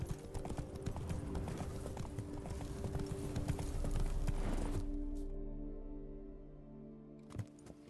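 A horse gallops in The Witcher 3, its hooves clip-clopping in a fast, steady rhythm up close for about five seconds, then fading out into quieter ambience with a brief final thud.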